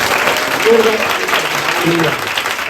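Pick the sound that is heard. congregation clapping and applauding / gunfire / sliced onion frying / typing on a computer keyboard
congregation clapping and applauding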